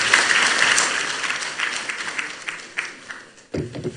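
Summit audience applauding after a governor's speech, loud dense clapping that thins into scattered claps, stops briefly, then resumes in a short burst.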